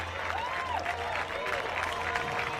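Crowd applauding and cheering for a Danish competitor at a stand-up paddleboard world championship, fairly distant and moderate, steady clapping over a low hum with a voice faintly audible.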